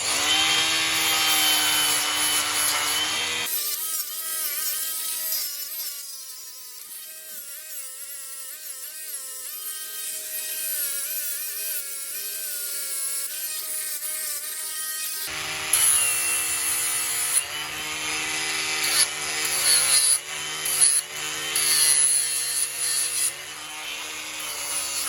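Angle grinder with a flat disc cleaning up welded scrap metal, a loud harsh whine at the start, then a lower quieter stretch, then rough grinding bursts returning, close up.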